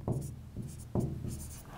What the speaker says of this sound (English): And write down the total here.